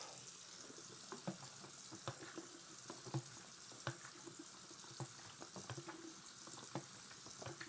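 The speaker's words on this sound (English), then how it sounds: "I am letting the water run" Hot and cold tap water runs steadily from a faucet at home, a faint, even hiss broken by small splashes and clicks.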